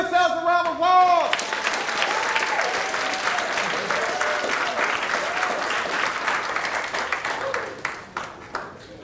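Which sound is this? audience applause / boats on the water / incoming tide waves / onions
audience applause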